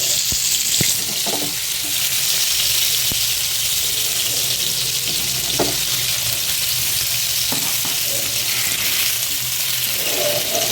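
Ground-masala-coated fish frying in a pan makes a loud, dense, unbroken sizzle with occasional soft pops and clicks throughout, close and steady, with nobody speaking.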